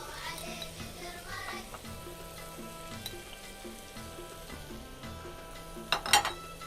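Spices sizzle and fry steadily in a pot for Bahraini chicken machboos, with pepper and dried lime among them. The hiss is moderate and constant, with a few utensil clinks and a sharper clatter near the end.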